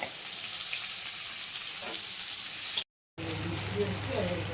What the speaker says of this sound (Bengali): পেঁয়াজটাকে দিয়ে ভালো করে একটু ভেজে নেবো লাল লাল করে